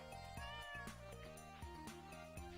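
A cat meows several times in Stardew Valley over soft tonal game music, the cries clear and close with no one talking.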